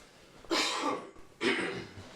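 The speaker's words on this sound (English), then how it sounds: "We're coughing because we smoke too much." Two short bursts of coughing, close and fairly loud, with a brief pause between them.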